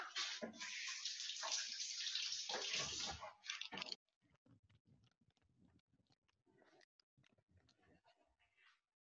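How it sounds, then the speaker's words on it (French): Hands are washed under a running kitchen tap while samosas are being made: a loud, steady gush of water for about four seconds, then the tap stops and faint rubbing, dripping and handling noises follow. "Je vais me laver les mains."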